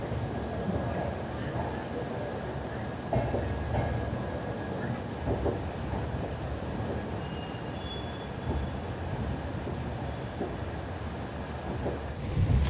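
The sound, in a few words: train 22997 Jhalawar City - Shri Ganganagar moving on rails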